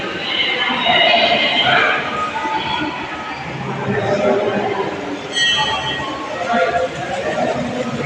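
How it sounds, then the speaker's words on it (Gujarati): A horse whinnies at a Ramdev temple, the Shaktinagar Dham near Halvad, Gujarat. The neigh is clear and moderately loud, heard over steady crowd chatter and a busy background. "આ છે રામદેવજી મહારાજનો લીલો ઘોડલો।"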